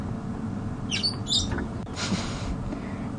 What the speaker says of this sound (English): you can hear the chirps, because they sound just like the parrots that one might find in a pet shop